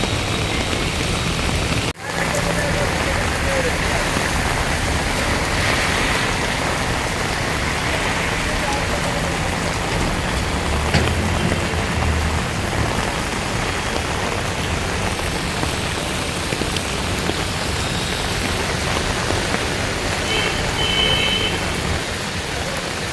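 Heavy rain pours onto a street in Guwahati as a loud, dense, continuous hiss of drops hitting the surface, steady throughout with no break and no talking.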